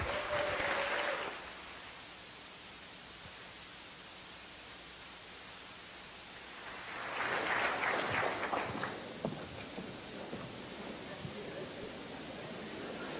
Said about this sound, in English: Please stand up, some active applause.